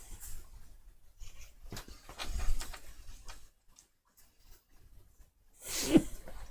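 A single sharp sneeze near the end, close and loud, following quiet stretches of faint tabletop rustling and shuffling during an Arkham Horror board game session.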